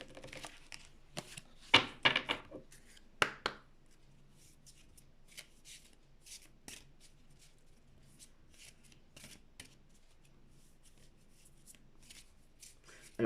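A deck of cards being cut and shuffled, a few sharp riffling bursts followed by softer intermittent card flicks and clicks.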